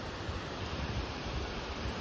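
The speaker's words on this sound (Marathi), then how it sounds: "हा धबधबा" A waterfall at Harishchandragad in the Sahyadri hills, heard as a steady broadband rushing roar with faint wind buffeting and no voices.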